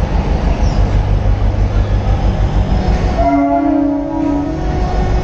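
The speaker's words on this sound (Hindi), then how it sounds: "सो ये है लोकल ट्रेन।" A local train on an Indian railway rolls past close by, a loud continuous rumble of wheels and carriages with a horn-like tone sounding midway before the noise eases slightly.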